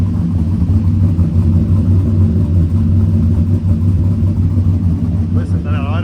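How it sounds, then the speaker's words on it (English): An LS V8 truck engine with swapped camshafts and a rough stage 3 tune, running lean, idles close by in a loud, steady, thick rumble that holds throughout. "Listen to that idle, man."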